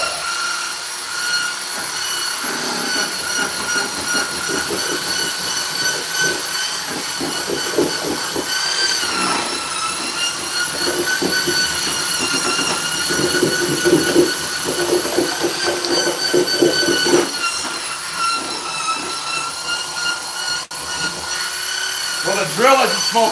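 A power drill whines loudly and continuously during shower pan tiling, a high-pitched drone with grinding and squealing variations close by, while a voice talks faintly underneath at times.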